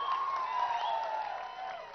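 An audience applauds at a political press meet in Telangana, a steady wash of clapping and crowd noise that holds for a couple of seconds at moderate level, with a faint tonal hum running underneath.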